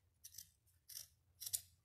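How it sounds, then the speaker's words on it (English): Three quiet, crisp snips of scissors cutting through yarn to make a tassel, evenly spaced and close up with no talking. "we're going to take our scissors and we're going to cut it."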